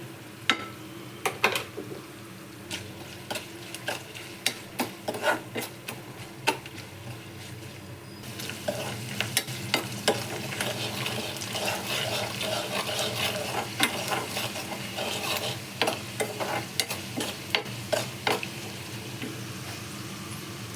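Chili powder, turmeric and coriander powder fry in oil in a pan. A spoon scrapes and stirs in steady strokes, then a loud, continuous sizzle takes over. The sound is close and has no talk.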